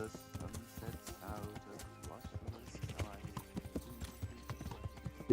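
Horse hooves clop at a slow canter in Kingdom Come: Deliverance, an uneven rhythmic patter of hoofbeats with occasional snorting, heard beneath people talking.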